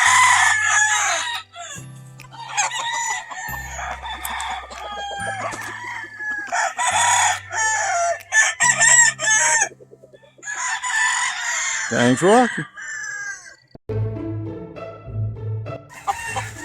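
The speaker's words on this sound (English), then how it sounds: "This is one of the blonder neck brown red roosters." A brown red rooster with a blond neck crows loudly several times and clucks in between, close up on a Georgia farm, with brief pauses separating the calls and a short spoken remark near the end.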